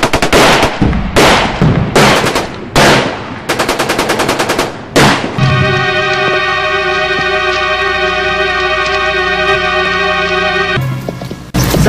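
Rapid bursts of loud automatic gunfire in several volleys, then a sustained high electronic whine with sharp crackles.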